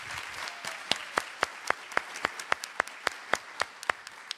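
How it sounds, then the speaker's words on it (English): A church congregation claps for a new member, filling the room with steady applause while sharp, regular hand claps ring out close by in an even rhythm. "Again, a round of applause for Betty."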